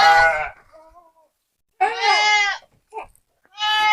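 Goat bleating close by in a rural pen, three loud wavering bleats separated by short pauses, with a faint fainter call in between.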